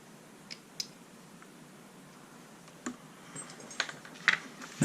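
Small molded tabs trimmed off plastic parts for a Tamiya TXT-2 RC chassis, a few sparse, faint, close clicks and snips over a quiet room hiss.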